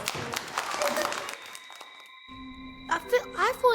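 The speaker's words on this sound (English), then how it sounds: "And round of applause." Pupils give a brief round of applause in a classroom, a short patter of clapping mixed with voices, followed by a sustained tone and more talking.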